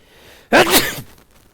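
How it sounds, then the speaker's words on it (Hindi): A single sharp human sneeze bursts out close and loud, lasting about half a second before fading back to quiet room tone. "हम मान लेंगे सर्दी की वजह से छींक आई है ना"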